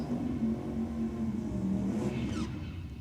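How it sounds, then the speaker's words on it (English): Drag racing car revving during a burnout at Sydney Dragway, a steady droning engine tone heard from a distance, fairly quiet and even, with no talk over it. "you're just going back in for another hit of the burnout. Just get a bit more heat in those tyres"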